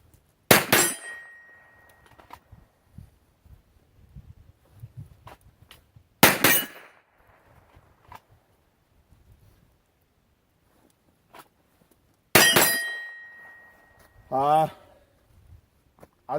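Pistol shots from an Arsenal Strike One ring out sharply on steel targets, three separate loud cracks spaced several seconds apart, each trailed by a faint metallic ring, with a person talking briefly near the end.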